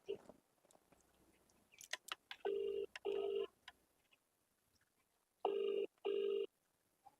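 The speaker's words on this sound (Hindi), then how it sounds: "फोन भी ना ठारी।" A telephone rings unanswered in a quiet room, with two pairs of electronic ring bursts separated by a pause. Faint handling clicks and shuffling come before them.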